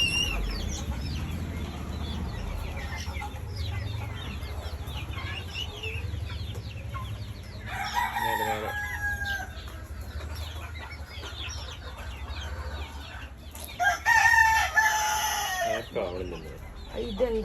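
Hens clucking steadily on a poultry farm, with a rooster crowing loudly near the middle and again close by toward the end; brief faint voices are heard.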